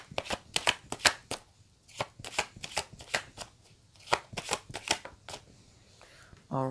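Tarot cards being shuffled in a rapid series of crisp riffling bursts, steady and close, with a brief pause near the end before a final clatter.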